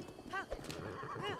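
Horse in Zelda: Breath of the Wild, neighing twice in short whinnies with hoof clip-clops between, close and clear with no talk over it.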